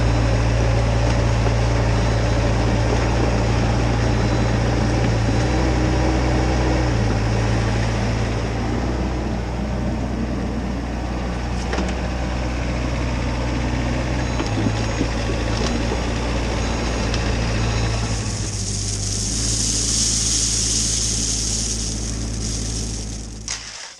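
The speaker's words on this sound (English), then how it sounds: "I'll bring the excavator over to the trailer, load it up, and then just continue with this backfill here." A heavy excavator engine rumbles steadily as it drives over to a trailer at a muddy woodyard drainage site. Near the end, a brief, louder scraping rush suggests a scoop of gravel being loaded.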